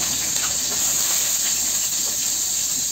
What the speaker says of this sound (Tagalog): Gisa natin yung ating sibuyas.